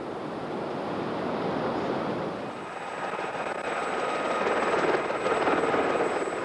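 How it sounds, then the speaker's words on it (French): Helicopter at an outdoor adventure race event, a steady whooshing rotor roar that swells louder toward the end, with no voices. "En effet, de l'hélicoptère de Gérard Fusy, on extrait l'infortuné Rafael Fonseca"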